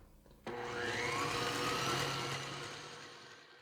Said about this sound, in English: I'm scraping down the sides now and give it one more quick whisk